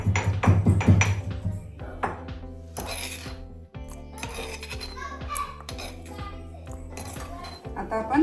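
Almonds are chopped into pieces for modak filling with a knife on a board, giving repeated sharp taps and small metallic clinks in an uneven rhythm while light background sounds continue under them.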